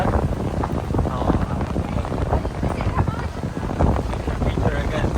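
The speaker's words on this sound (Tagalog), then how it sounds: "Sobrang hangin." Strong wind at a fishing village buffets the microphone with steady, rough roaring gusts, loud and continuous, with brief talk mixed in.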